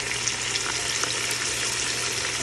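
Seasoned rice ingredients poured into a hot pan, a steady broadband sizzle and hiss with faint splashy pouring texture running continuously, fairly close and even in level.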